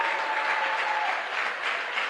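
Steady, dense applause with cheering from a church congregation acclaiming a preacher, sustained and even across the whole stretch with no pauses.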